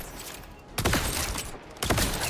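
Weapon fire in the video game Borderlands 4 comes as two loud, dense bursts of rapid shots, each cutting in sharply and rattling on for most of a second above a steady low game background.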